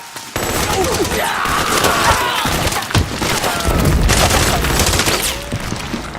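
Dense gunfire in the Metal Gear Solid 4 video game on PS3: a loud, continuous fusillade of rapid shots and cracking impacts with splintering debris, sustained for the whole stretch, with faint shouting voices mixed underneath.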